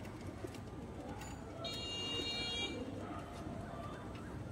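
Pigeons in a loft give soft, low cooing calls amid a busy background, with a brief higher electronic tone partway through.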